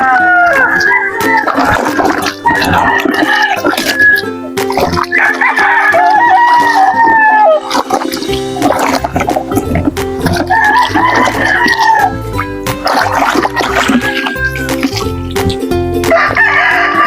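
Loud, close rooster crows from a tall fighting rooster repeat several times, mixed with clucking and a rumbling background.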